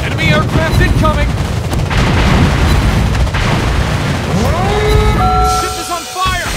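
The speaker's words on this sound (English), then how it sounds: "Anti-aircraft gun on full alert." Anti-aircraft guns on a warship in World of Warships pound out rapid, heavy booms in a loud continuous barrage. Game voice alerts sound over the gunfire.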